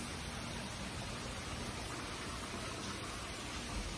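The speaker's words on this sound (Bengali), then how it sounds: "খুব বৃষ্টি হচ্ছে।" Heavy rain falls outside a home in America, a faint, steady hiss of rainfall holding evenly throughout with no voices.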